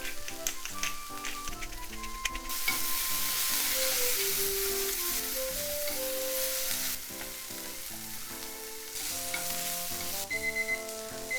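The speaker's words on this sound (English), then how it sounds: "a couple minutes of frying, I'm going to put in this green part of the scallion." Green scallion tops, salt and black pepper sizzle in a pan for a Japanese-style mushroom pasta sauce, with a steady frying hiss and occasional stirring, under background music.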